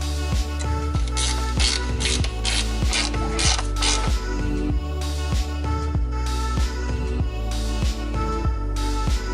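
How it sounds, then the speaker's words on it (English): Ratcheting clicks and metallic mechanical ticks from a wrench threading a bolt into a carbon-fiber body part on a BMW E92 335xi wide-body build, repeating in a steady rhythm close by with no talking. "Let me get the other bolt and throw it in here."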